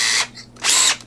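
A power drill boring a pilot hole into scrap wood for a hidden-compartment beehive tool cabinet, two short close bursts of whining motor separated by a brief pause.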